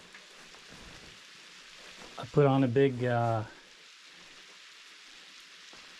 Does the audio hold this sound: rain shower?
yes